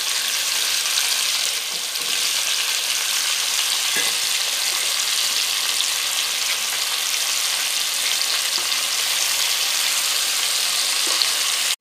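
Potato pieces fry in hot oil in a kadai with bay leaf, dried chilli and cumin, giving a dense, continuous sizzle up close, broken by a few faint stirring taps, with no voices.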